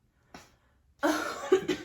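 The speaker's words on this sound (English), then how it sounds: "I had to cough." A short cough bursts out near the mic, followed after a pause by a longer, rougher cough-like burst with some breathy rasp.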